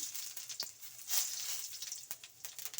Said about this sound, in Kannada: ನೋಡಿ ಜೀರಿಗೆ ಸಿಡಿದಿದೆ